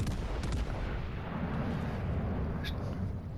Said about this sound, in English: The British ship firing on a German one.